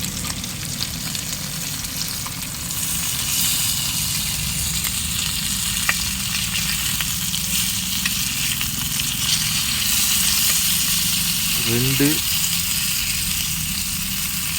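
Mullet fish fry in a pan with a steady, dense sizzle and crackle, close and continuous, with a brief scrape of a utensil near the end.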